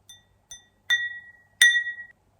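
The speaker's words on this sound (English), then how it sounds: "You tip the end of the glass with a finger." A finger taps a plain glass champagne flute from a French flea market four times, each a short bright clink with little ring; the later two taps hum slightly longer.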